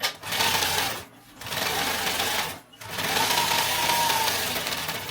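A sewing machine runs a straight stitch across a backpack, steady whirring bursts of about a second each, separated by two brief pauses, close and clear.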